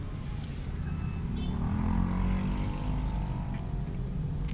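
Truck engine idling and rumbling nearby in a fish market parking area, a steady low drone with a faint rising whine, continuous and fairly close.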